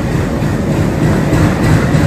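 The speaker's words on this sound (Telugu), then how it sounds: "Tirupati Kadiri జేవరపల్లి passenger departing from" The Tirupati–Kadiri passenger train departing Dharmavaram railway station gives a loud, steady, broadband rumble of rolling wagons and engine, close and continuous.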